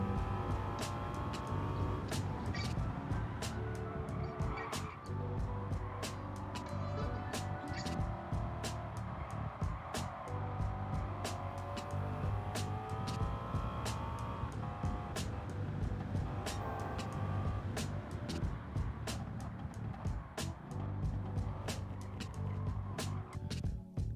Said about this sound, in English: I kinda like the sound of this engine, even though it was no longer very Porsche-like.